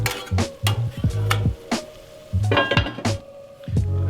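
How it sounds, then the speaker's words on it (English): A lid goes onto a cast iron pan in a home kitchen while beef stroganoff cooks, giving a run of sharp metallic clanks and clinks, close and loud, with short pauses between the bursts. "Put the lid over it."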